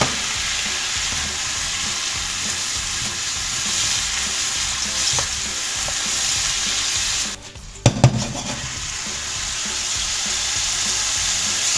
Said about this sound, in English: that's been frying for about 2 minutes